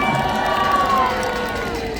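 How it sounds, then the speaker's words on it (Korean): A crowd at an outdoor rally in Gwanghwamun, Seoul, cheers and claps together, a loud, sustained burst of applause and voices that fades slightly toward the end. "박수하겠습니다"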